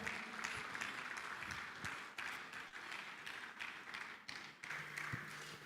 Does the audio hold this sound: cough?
no